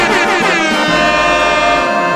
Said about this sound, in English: With MLG air horn effects and heavenly sounding sounds of stuffs.